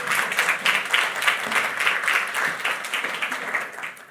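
An audience claps for a few seconds after a talk on the enterprise augmented reality ecosystem, with steady, moderately loud applause that tapers off at the end.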